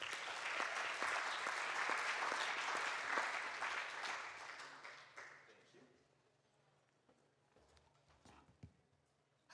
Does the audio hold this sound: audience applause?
yes